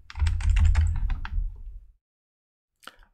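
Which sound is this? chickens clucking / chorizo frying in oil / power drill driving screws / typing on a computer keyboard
typing on a computer keyboard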